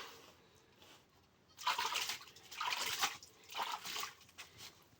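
Water poured into a cow dung plaster mix for floor or wall coating, heard as splashing, gurgling pours in a few surges after a quiet start, close by.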